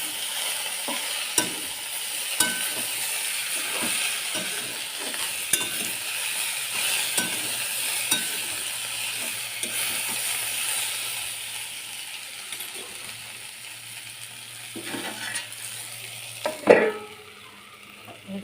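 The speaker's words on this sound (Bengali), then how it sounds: "এই যে আলু ভাজা করছে।" Potatoes fry in a pan with a soft continuous sizzle, broken by repeated sharp scrapes and clinks of a spatula stirring every second or two, ending with a louder clatter near the close.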